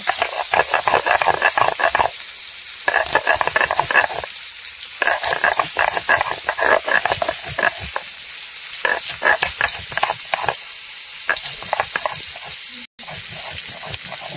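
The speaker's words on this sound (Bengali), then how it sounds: "মাছের মাথাগুলো ভাজা হতে হতে" Fish heads frying in a village kitchen, a crackling sizzle that comes in bursts with short quiet gaps, fairly close, with faint voices and clatter mixed in.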